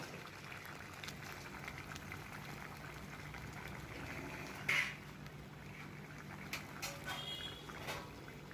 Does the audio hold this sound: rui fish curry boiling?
yes